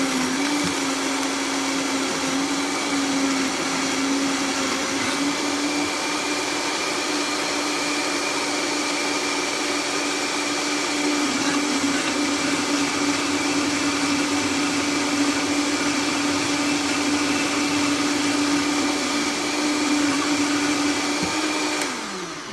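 A kitchen blender whirs steadily as it mixes berries into a smoothie, a loud continuous motor drone with a slight pitch dip midway, running alone without talk throughout.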